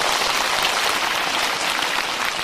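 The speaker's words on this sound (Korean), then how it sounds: "네, 박수." Applause from a large audience at a Buddhist dharma talk in a temple hall, a loud, continuous wash of clapping that sounds almost like heavy rain and stays even from start to finish.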